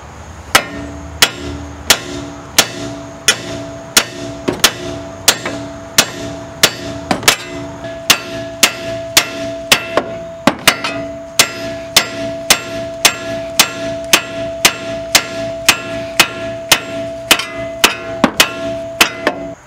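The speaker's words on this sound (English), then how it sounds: "So you're just gonna get a good size hammer." A good-size hammer bangs on the front strut of a 2004-2013 Mazda 3 to knock it loose from the steering knuckle. Some thirty-plus sharp metallic strikes land in a steady, close, loud rhythm with a brief ringing after each blow.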